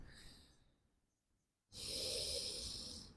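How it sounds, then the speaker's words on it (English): Slow, deep breath in a yoga frog pose, a soft exhale fading to near silence, then a strong, close, airy inhale or exhale rushing in and holding steady. "Deep inhales and exhales."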